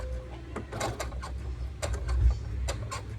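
A sewing machine stitches the side seam of a drawstring bag with tabs, giving close, faint mechanical clicks and rattles in short uneven bursts with brief pauses, as if stopping to reverse and then going forward again.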